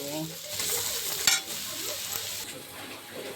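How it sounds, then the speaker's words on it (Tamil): Steady hiss and sizzle of mushroom gravy masala frying in a pan with chilli and coriander powder, with occasional stirring scrapes and a brief clink near the middle, no voices. "ಒಂದು 5 ನಿಮಿಷ ಫ್ರೈ ಮಾಡಿ."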